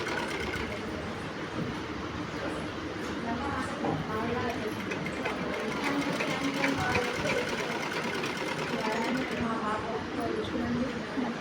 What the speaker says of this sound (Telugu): చూసుకుంటూ కుట్టుకోవాలి ఫ్రెండ్స్